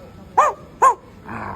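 A man imitates a dog with two sharp barks in quick succession, followed by a short growl-like sound, close and loud in an otherwise quiet room.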